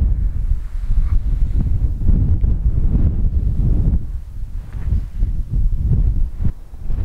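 Strong wind buffets the microphone near the active Villarrica volcano in South America, a steady low roar with gusty swells throughout and no talking.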